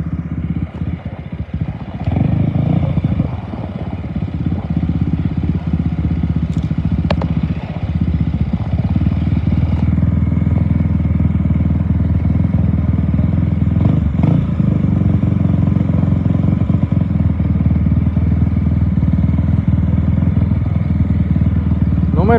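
Off-road racing quads idle and rev at the start line of the Cabo 250 race, a steady loud engine drone with clatter and occasional blips, while an announcer talks over the scene.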